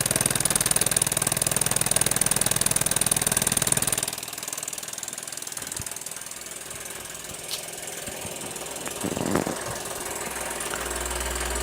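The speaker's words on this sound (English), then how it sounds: "I'll move the mic in so that you can hear the engine rather than me." A 1946 Mamod SE2 model steam engine runs with a rapid, even chugging, loud at first, then quieter and closer-sounding with a steady rhythmic beat and no talking.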